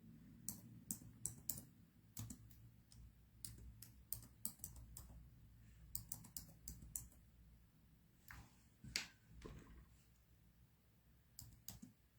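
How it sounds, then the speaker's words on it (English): Typing on a computer keyboard: irregular bursts of crisp key clicks, close and quiet, with short pauses between runs of strokes and no talking. "I'm just typing something"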